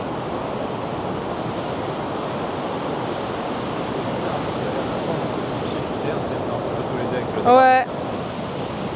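Ocean waves wash onto a beach on Magnetic Island, Australia, as a steady, even roar of surf that continues throughout, with a brief voice and a short sharper sound near the end.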